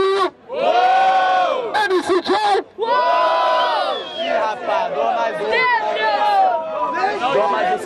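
A large crowd at a 2016 rap battle in São Gonçalo, Brazil, roars and chants a rapper's name loudly in unison, with sustained shouting and cheering that swells and pulses, close and energetic.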